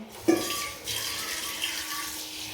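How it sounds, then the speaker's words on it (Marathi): Cleaned brass vessel rinsed under running tap water, a soft continuous close splash and trickle with one brief knock of the pot near the start. "फक्त मी आता पाण्यानं वॉश करून घेईल"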